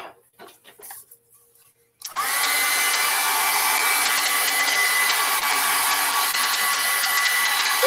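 Hair dryer blowing on a watercolor painting, a loud steady whirring rush that switches on after a couple of seconds of faint rustling and runs continuously.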